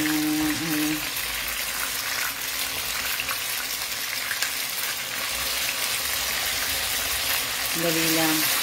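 Banana turon frying in hot oil gives off a dense, steady sizzle and crackle of splattering grease, close and continuous, with a voice speaking briefly at the start and the end.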